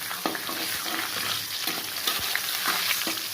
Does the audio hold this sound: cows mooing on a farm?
no